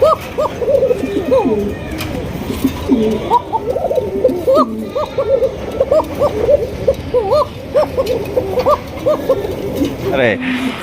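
Pet pigeons coo and call close by in a steady run of throaty, repeated coos across the whole stretch, with background voices and noise underneath.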